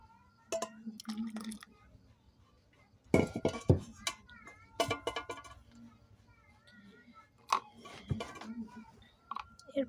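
Milk tea poured into a cup amid kitchen clatter, with clinks of a pot and utensils coming in irregular bursts, a short liquid trickle, and some voice in the background.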